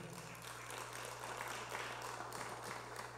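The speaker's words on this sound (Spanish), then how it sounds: "Le damos un fuerte aplauso, Señor." Church congregation applauding during a Spanish-language sermon, a steady wash of clapping at moderate level over a constant low hum, with no talking.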